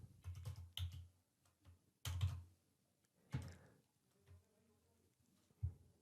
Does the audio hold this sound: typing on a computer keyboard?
yes